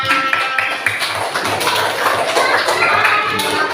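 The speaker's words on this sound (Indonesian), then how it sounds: "Wow, oke, tepuk tangan." Group applause in a classroom, a dense, steady patter of many hands clapping close by for nearly four seconds without a clear break.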